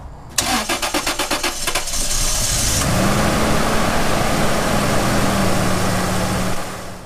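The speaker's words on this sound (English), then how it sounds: "Just keep on cranking and it should start up." A car engine, just fitted with new fuel injectors after a misfire, cranks with a rapid rhythmic churning for about two seconds, then catches and settles into a loud, steady idle that runs until the end.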